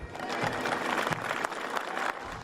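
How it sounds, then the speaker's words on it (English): Steady applause from a crowd welcoming a police officer standing up from his wheelchair after leaving the hospital, dense clapping held at an even level throughout. "One of them, Jose Gautreaux, was applauded as he stood up from his wheelchair."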